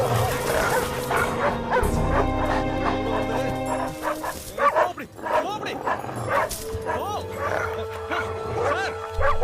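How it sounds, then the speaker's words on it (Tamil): Several dogs at a dog farm bark, yip and whimper in a rapid, overlapping chorus, loud and close, with a brief lull partway through. "என்ன நாய் பண்ணையா வச்சிருக்கான்?"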